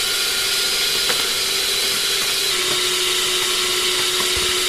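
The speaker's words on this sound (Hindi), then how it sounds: "ये 2 से 3 मिनट तक इसको दोबारा पीसेंगे।" An electric grinder runs continuously at a high, even whir as it grinds thandai powder with rose petals, fennel and sugar candy, with a few faint knocks inside the jar and no voices.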